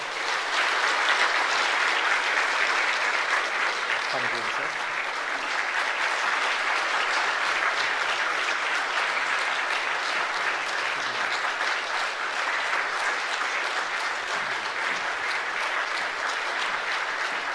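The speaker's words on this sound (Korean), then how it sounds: "여러분 박수로 한번 축하해 주십시오" A congregation at a church worship service applauds scholarship recipients, a long, steady, full-room wash of clapping that holds at an even level throughout.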